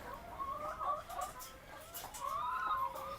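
BV380 laying hens cluck and murmur in a coop, a string of close, soft warbling calls rising and falling over a few seconds with no talking.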